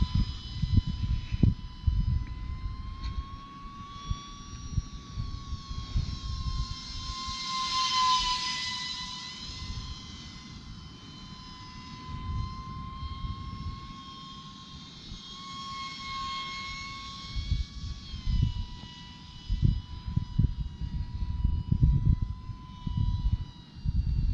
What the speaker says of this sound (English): Let's do a high speed pass. So that's full throttle.